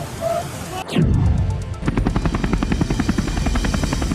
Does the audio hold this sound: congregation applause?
no